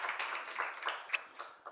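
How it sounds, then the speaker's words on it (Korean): A church congregation claps together at an Easter Sunday service, a fairly quiet, uneven patter of many hands that carries on for under two seconds. "우리 하나님께 영광의 박수 올려드리겠습니다."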